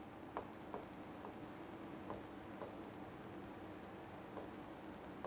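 A marker or chalk scratches a board in short, faint strokes spaced irregularly over a steady background hiss, with no voices.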